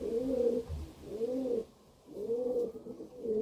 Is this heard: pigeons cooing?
yes